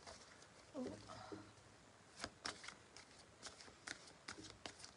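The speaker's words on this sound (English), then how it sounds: "Let me just give these a shuffle." Tarot cards being shuffled by hand in a quiet room, a run of crisp riffling flutters and soft slaps repeating unevenly over several seconds, close and moderately loud.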